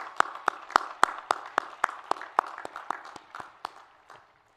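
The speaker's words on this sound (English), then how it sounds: "Let's give them all a round of applause and thank them for their efforts." Applause from a commencement audience, claps crisp and fairly close, thinning out and fading to silence after about four seconds.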